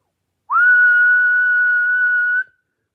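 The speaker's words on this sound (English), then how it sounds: "Ready? I'm going to whistle." A person whistles a single sustained, steady note lasting about two seconds, loud and close in a quiet indoor room, with a slight rise at the start and a small upward flick at the end.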